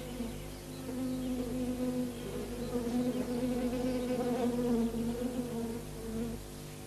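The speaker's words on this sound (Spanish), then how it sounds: "aparecen las primeras abejas marcadas de amarillo en el plato" Yellow-marked honeybees buzz at an outdoor feeding plate. The droning hum is steady and close, with several insects overlapping in a continuous buzz and no voices.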